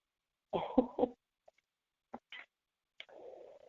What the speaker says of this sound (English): Suppress this cough in the mighty name of Jesus.